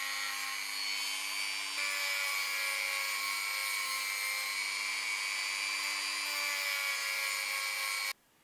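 A Dremel rotary tool cutting into a small plastic part of an ASUS gaming mouse, a high, steady whining buzz at close range running unbroken for about eight seconds before cutting off abruptly.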